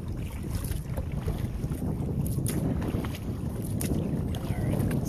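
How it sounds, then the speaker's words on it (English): Wind gusting steadily over the Connecticut River around a small drifting boat, a continuous loud rushing roar with buffeting on the microphone, no voices. "wind is blowing upstream"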